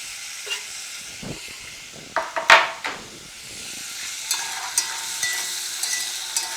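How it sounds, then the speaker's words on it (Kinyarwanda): Chopped onions and garlic fry in a spoonful of oil for a lasagna sauce, making a soft, steady sizzle with a few sharp clicks and a clatter of stirring in the pan. "Turabikaranga kugeza igihe numvishe ko bisaye nka bihumiyemo gakeya."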